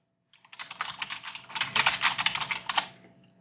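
Quick, irregular keystrokes on a computer keyboard clatter in a close, steady burst lasting about two and a half seconds, with no voices.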